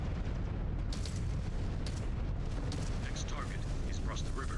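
Mech weapon salvos in the combat game Mechwarrior 5 Clans land as rumbling booms and bursts, heavy low-end explosions layered with crackling impacts, while a voice comments over the action.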